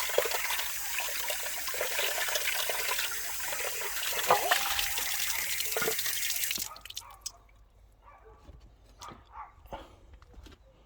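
Tap water runs steadily while vegetables are washed in a kitchen, a loud continuous rush that cuts off partway through, leaving quiet drips and small clatters afterward.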